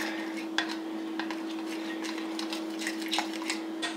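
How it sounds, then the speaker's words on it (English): Melted ingredients being stirred in a bowl for a Halloween snack, with soft repeated scraping and clinking strokes of a utensil against the bowl over a steady electrical hum. "Go ahead and give that a quick stir"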